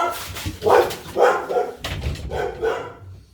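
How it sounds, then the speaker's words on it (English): Several dogs bark indoors in loud, close bursts of barking and yips with short gaps between, excited and insistent, as a delivery truck arrives out front. "Dogs are going crazy."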